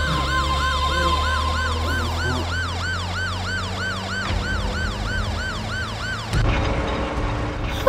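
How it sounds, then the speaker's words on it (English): A police siren wails in rapid, repeated rising and falling sweeps, loud and close over engine rumble. It cuts off abruptly near the end and leaves a brief noisy scrape. "I'm hearing a siren sound. Yeah, yes, it's police."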